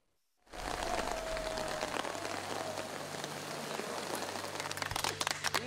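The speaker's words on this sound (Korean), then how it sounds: "하늘에서 붉은 빗방울이 떨어지고요" Steady rain pours down at a wildfire command post in Uiseong, North Gyeongsang, a dense hiss of drops hitting surfaces that starts suddenly and holds at an even level, with heavier spattering near the end.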